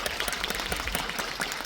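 Audience applause at a Korean film screening event with the director, dense steady clapping from many hands filling the short clip, no talk over it.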